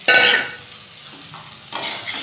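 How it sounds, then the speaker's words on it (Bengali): Fried potatoes being stirred into a cooked spice paste for an egg curry, with two short bursts of scraping and sizzling from a spatula in the pan, separated by a quieter pause, close up. "এবার কষানো মশলার মধ্যে ভাজা আলুটা দিয়ে ভালো করে একটুখানি নেড়ে নিতে হবে"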